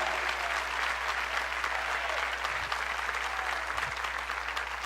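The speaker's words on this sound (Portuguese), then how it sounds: "Se vai aplaudir, aplaude ao Senhor, que é digno de toda honra, aplauda com vontade" Church congregation applauding during a service, a dense sustained wash of clapping from many people, even and fairly distant with a low hum beneath and little talk.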